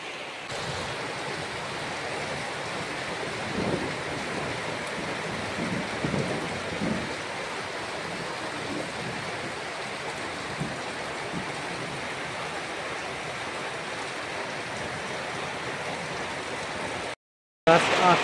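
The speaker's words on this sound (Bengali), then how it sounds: "তো এখন বাইরে আমাদের এখানে প্রচণ্ড জোরে বৃষ্টি পড়ছে" Heavy rain pours steadily outside, a dense, even roar at moderate level with a few low rumbles, continuing for most of the stretch before a brief cut near the end.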